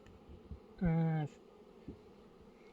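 A honeybee buzzes close by for about half a second in a hive with newly emerged bees, a loud humming tone amid quiet background with a few faint knocks.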